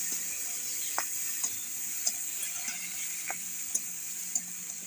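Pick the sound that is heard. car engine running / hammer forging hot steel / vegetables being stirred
vegetables being stirred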